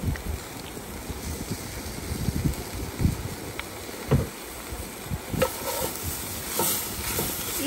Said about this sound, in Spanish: Y vamos a dejar aquí cocinar otro poquito más hasta que los vegetales pues ya estén blanditos